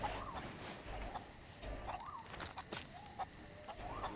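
A chicken clucks in the Sea of Thieves video game, with repeated short clucks in a loose rhythm over faint outdoor ambience with insect-like chirping and a few sharp clicks.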